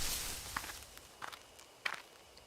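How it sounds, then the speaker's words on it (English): Footsteps rustle through bushes in the horror game Death Mark: three soft, separate crunching steps at a slow, irregular pace, fairly close, over a faint dark ambient hiss with no talking. "there are footsteps close by from the bushes."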